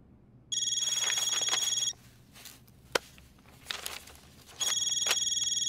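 A telephone rings in a loud electronic burst for over a second, goes quiet with faint movement and a single knock, then starts ringing again near the end.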